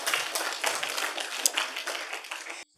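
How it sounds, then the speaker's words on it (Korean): Church congregation clapping together during a worship service, a dense patter of many hands for a few seconds, stopping abruptly. "우리 한번 박수하겠습니다."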